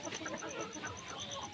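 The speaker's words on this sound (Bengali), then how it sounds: "দেখেন নতুন বসি পেয়ে মুরগিগুলো খেলাধুলা করতেছে" Layer hens scratch on fresh bedding, with faint soft clucking under a steady row of evenly spaced high chirps.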